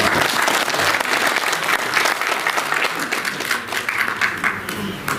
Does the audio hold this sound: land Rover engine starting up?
no